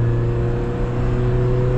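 A Toyota Hilux engine pulls steadily as the truck accelerates through the gears, with a sustained, even hum and whir heard from inside the cabin. The drone stays loud and constant, with no voices.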